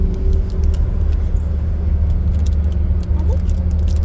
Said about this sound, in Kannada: ನಾವಿಲ್ಲಿ ಬಸ್ ಒಳಗೆ ಟ್ರಾವೆಲ್ ಮಾಡಕತ್ತೀವಿ